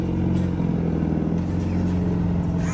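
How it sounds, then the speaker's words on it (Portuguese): Car engine revving hard, sounding like a truck, a loud, steady, throbbing low-pitched rumble close by with slight rises in pitch, running continuously with no speech over it. "Tá repicando o carro igual caminhão, pô."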